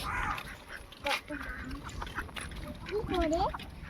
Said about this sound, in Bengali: বিজলি, হ্যাঁ দেখে যে হাঁস